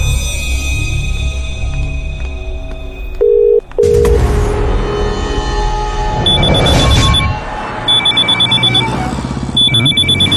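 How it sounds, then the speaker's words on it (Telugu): A new mobile phone rings with its first call in a film scene: short electronic ringtone bursts and repeated beeping tones cut through loud background music and noise. "కొత్త ఫోన్ ఫస్ట్ కాల్ రా."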